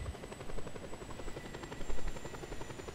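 Helicopter in the video game Just Cause 2 flies with a steady rapid rotor chop and engine drone, close and continuous throughout, with no talking.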